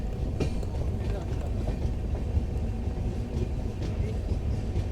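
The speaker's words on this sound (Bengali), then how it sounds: "ট্রেন এখন রামনগর ছেড়ে বেরিয়ে যাচ্ছে" The 12857 Tamralipta Express from Howrah to Digha pulls out of Ramnagar, its carriage filled with a steady, dense rumble of wheels and body noise that holds at an even level throughout.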